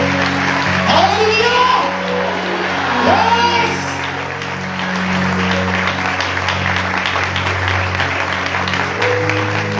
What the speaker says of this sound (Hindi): आए कलाम खुदा के लिए जोरदार तालियां